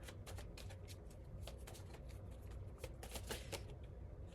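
A deck of tarot cards is shuffled and drawn, giving a close, continuous flutter of riffling cards with sharp snapping bursts throughout and no speech.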